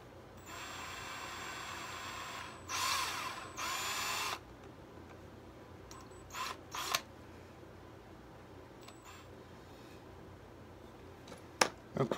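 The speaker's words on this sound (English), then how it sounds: "I have this tiny little drill bit. It's probably the smallest drill bit that will fit in." A tiny drill bit bores into a brass salt shaker top, giving a few short bursts of high whine separated by quiet gaps, close and moderately loud, with faint clicks at the end.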